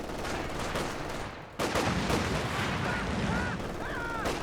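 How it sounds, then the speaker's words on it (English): Battlefield gunfire in Company of Heroes 2, with mortar shells hitting a field near buildings, comes through as a dense rumble of shots and blasts that swells around the midpoint and keeps going. "Nuffa's going to go for a mortar to counter that. It's hitting the field now."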